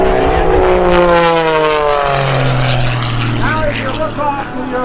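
An aerobatic propeller airplane diving at the 2012 Rhode Island airshow at Quonset, its engine droning loudly with shifting, rising and falling pitch, heard under an announcer speaking over the public address.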